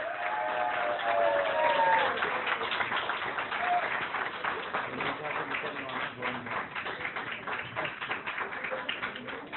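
Clapping from the audience at a course closing ceremony in Lahore, a busy, moderately loud patter of hands with voices and cheering mixed in at the start before it gradually thins.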